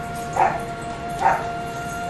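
Two short barks sound about a second apart inside World of Warcraft, moderately loud over a steady hum with an ongoing tone beneath.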